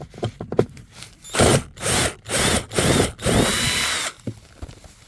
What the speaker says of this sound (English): Let's undo the bolt and show you.